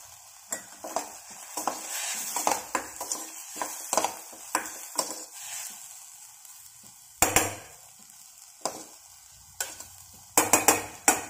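Vegetables being stirred in a pan with red chilli powder and crushed peanuts, a spoon scraping and clacking against the pan in irregular strokes over a faint sizzle, close and without talk.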